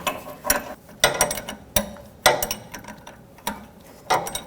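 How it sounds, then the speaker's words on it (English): A tie rod tool ratchets as it tightens an inner tie rod on a 2009-2014 Honda Fit steering rack, giving sharp clicking bursts in an irregular rhythm about every half second to one second, close and fairly quiet. "Let's grab the tie rod tool so we can tighten it up completely."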